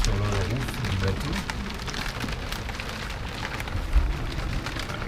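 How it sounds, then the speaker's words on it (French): Dense, steady pattering of hail drumming on a sailboat's hard cabin roof in the Bay of Biscay, continuous throughout with a low wind rumble beneath. "on entend le bruit de la grêle sur le roof du bateau"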